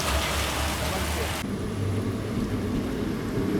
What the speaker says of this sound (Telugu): వర్షం అసలు ఆగలే.